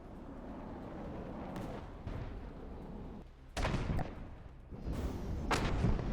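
Missile salvos launching in the naval combat game From the Depths, a rapid series of loud booming thumps and whooshing bursts that swell and overlap into dense rumbling volleys.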